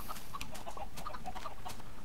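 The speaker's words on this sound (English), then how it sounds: "All the chickens will now start falling down into this place and be cooked." Chickens cluck in short, scattered bursts in a Minecraft chicken cooker farm, with several birds calling over a steady hiss of background noise.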